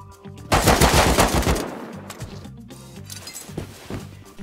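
Rapid bursts of AK rifle fire in the video game Rust, a loud close volley followed by scattered shots and rattling impacts, with a faint voice in the background.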